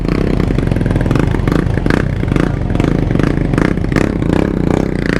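A Suzuki GSX-R 600 sport motorcycle rides through traffic, its engine a loud, close, steady drone with rhythmic pulsing, light rattles and scrapes, and no talk over it.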